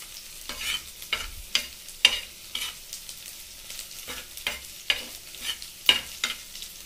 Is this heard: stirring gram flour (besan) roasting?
yes